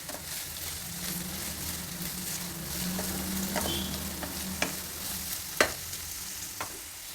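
Frozen peas sizzle gently in a pan while being stirred for a spiced rice dish, with a soft, constant fry broken by a few sharp scrapes and taps of the spoon.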